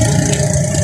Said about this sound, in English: this motorcycle is really loud and it's messing up the video